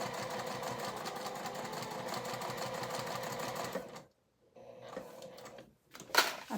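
A sewing machine runs a steady stretch of top stitching with a narrow 1/8 inch seam allowance, close up, then stops abruptly, followed by quieter handling sounds and a brief sharp clack.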